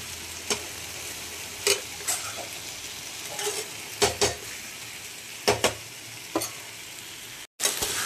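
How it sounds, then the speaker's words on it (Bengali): Chicken being kosha-fried in a pan, a constant dense sizzle punctuated by sharp clacks of a spatula against the pan at irregular intervals, close and loud, briefly cutting out near the end. "এখনো মাংসটা কষানো হচ্ছে"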